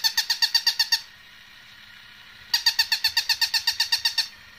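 Battery-powered toy dog squeaking in two bursts of rapid, evenly spaced high chirps, the first lasting about a second and the second nearly two, close and clear with a quiet pause between them.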